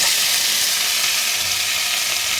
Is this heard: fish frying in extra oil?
yes